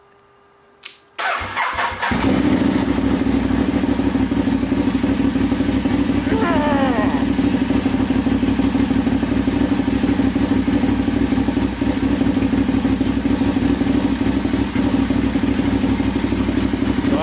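A Ducati Diavel motorcycle fires up after a lithium battery upgrade, a brief starter whir giving way to a loud, steady idle that runs on as the engine warms.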